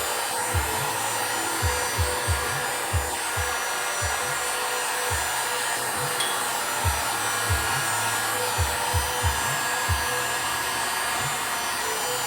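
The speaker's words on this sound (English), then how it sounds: "I've got a heat gun here. I'm just going to put a little heat on this" A heat gun blows hot air onto Lichtenberg-burned wood art to dry yellow color, giving a constant loud whooshing hiss with soft low thumps from handling scattered beneath it throughout.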